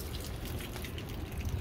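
Water sprinkled from a watering can onto potted balcony garden plants, a soft continuous patter and trickle of drops on leaves and soil, close by and fairly quiet.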